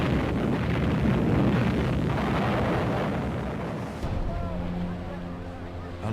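Heavy D-Day artillery bombardment rumbles as a dense, continuous low roar with wind-like noise, fading somewhat before a sharper burst, followed by a quieter drone and low tonal hum.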